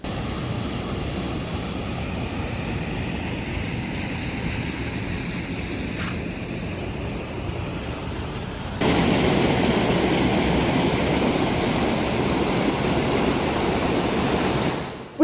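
A very flooded river rushes in a steady, dense roar of water, continuous and close throughout, growing louder partway through as if the listener moves nearer the torrent.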